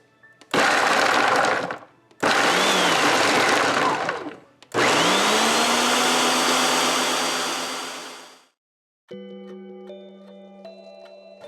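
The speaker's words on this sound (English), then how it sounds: "So I'm gonna put these through my blender" A kitchen blender grinds peeled carrots for carrot cake in three loud bursts: a short whir, a pause, a longer whir, then a sustained run that winds down to silence before faint kitchen sounds.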